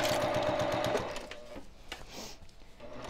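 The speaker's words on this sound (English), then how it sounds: "I'm just going to sew a 1/4 inch seam" A sewing machine stitches a quarter-inch seam on a pillowcase, running in a fast rhythmic whir for about a second, then slowing into softer, uneven stitching bursts before picking up again briefly.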